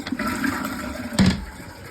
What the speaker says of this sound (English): Now we flush.